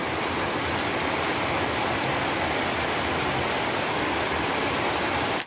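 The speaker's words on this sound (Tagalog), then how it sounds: "Sa lakas ng ulan, hindi na makita yung ano mga kaibigan, palayan." Heavy rain pours over a rural farmyard with rice fields and animal pens, a dense, loud, unbroken roar of water that fills the whole clip with no voices.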